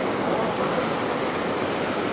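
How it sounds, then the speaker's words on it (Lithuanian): Surf washes in at Diamond Beach on Nusa Penida during high water, heard as a broad, steady roar of waves with some wind noise, continuous and fairly loud. "Bangelės."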